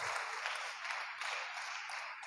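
A church congregation breaks into steady applause, a dense, even wash of clapping that holds at moderate loudness for a couple of seconds with no voices on top.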